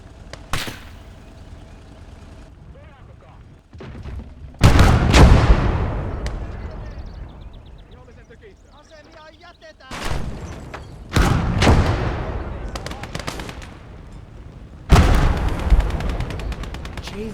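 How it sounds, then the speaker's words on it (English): Gunfire in Call to Arms: Gates of Hell during a Finnish conquest battle: several loud, sharp blasts with booming tails at intervals, quieter crackling shots between them, and someone talking over the combat. "Bloody machine guns."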